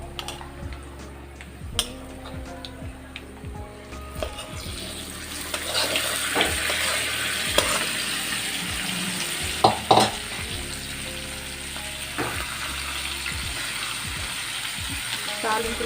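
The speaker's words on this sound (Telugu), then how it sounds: "తాలింపులో పచ్చడి కలిపేసి సర్వింగ్ బౌల్లో తీసుకుందామండి." Guntur-style gongura sesame pickle stirred into hot tempering in a pan, with a low sizzle, scraping and knocks of a spoon against the pan, and a few clattering taps along the way.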